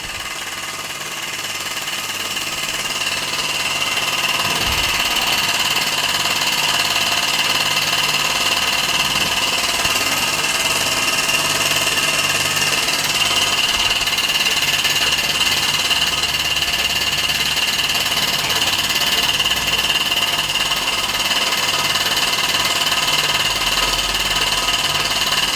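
A 1946 Mamod SE1 model steam engine runs steadily close by, giving a continuous rapid mechanical chuffing and rattling with a faint high hiss that does not change throughout.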